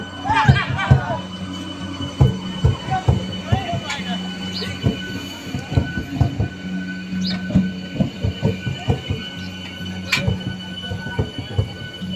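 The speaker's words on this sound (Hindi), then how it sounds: "से टाटानगर तक मेमो पैसेंजर ट्रेन चलाने को हरी झंडी दे दी" A MEMU passenger train runs between Rourkela and Tatanagar, its wheels clattering in rhythmic bursts over the rail joints with a steady hum beneath, while voices talk throughout.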